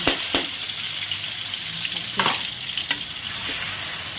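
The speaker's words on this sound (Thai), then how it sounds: "ผัดพริกก่อนจ้าให้หอมหอม" Chilies stir-fried in a wok as the first step of a Thai holy basil chicken stir-fry, giving a steady close sizzle broken by sharp scrapes and clinks of the spatula, with no talking.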